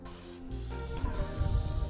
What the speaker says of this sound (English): spraying out the building with the product now